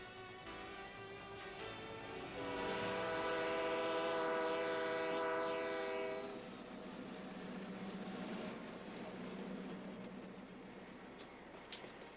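A General Motors diesel locomotive rumbles past with a sustained horn blast that swells and fades. The steady engine drone continues afterward with no voices.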